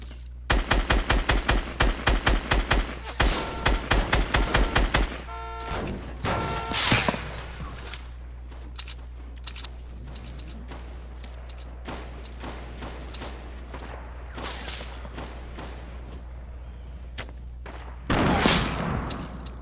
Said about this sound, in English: You hearing all these shots? This is insanity.